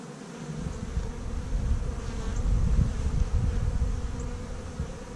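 A dense, steady buzz of many honey bees at a hive close by, rising slightly in loudness midway, with no voices.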